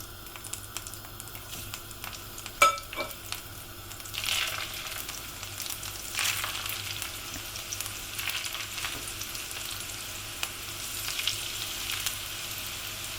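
Spoonfuls of grated potato latke mixture fry in hot oil, giving a steady, moderately quiet sizzle dotted with fine popping crackles and a few louder spits, with no one talking.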